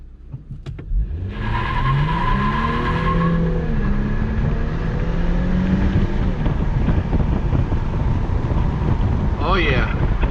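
A Polaris Slingshot three-wheeler accelerating hard under manual shifting, its engine note climbing through rising pitch sweeps with a gearshift break, loud and steady, under heavy wind rush throughout.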